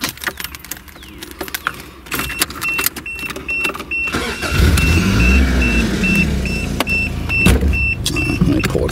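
A 1985 Toyota Celica GT-S convertible cranks and fires, its mid-pitched engine settling into a steady idle and low rumble as it starts to roll forward, close by, with a faint high whine and clicks from the cabin.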